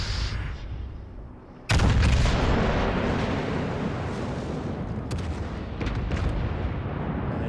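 Heavy ship guns of the battleship Musashi firing in a naval battle game, one loud sudden broadside blast followed by sustained rumbling and a few more distant crackling shots.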